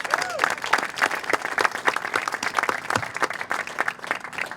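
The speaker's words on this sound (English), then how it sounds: "It's a round of applause for those guys." An outdoor crowd at a ground breaking ceremony for City Dock in Annapolis gives a round of applause, steady moderate clapping from a mid-sized group with a few voices underneath.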